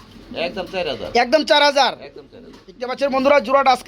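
Pigeons at a pigeon market coo and call in bursts, close and fairly loud, with two main stretches of throaty vocalizing separated by a short quieter gap.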